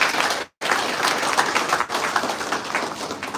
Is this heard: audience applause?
yes